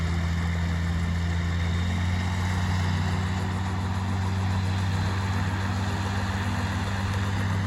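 A Sport Copter Vortex M912 gyroplane runs at full power, a steady loud engine drone with strong low harmonic hum and constant broadband roar, unbroken and close, with no voices.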